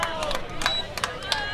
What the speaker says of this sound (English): the crowd expressing their disapproval